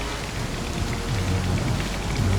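Steady rain pours down in the Star Citizen video game, a dense constant hiss of drops on surfaces that continues unbroken throughout, with no voices.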